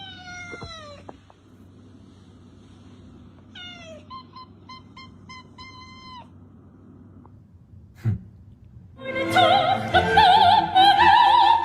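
Cats meow repeatedly, a few drawn-out calls and a short rapid series, then a loud caterwauling burst of overlapping yowls at the end, fairly close.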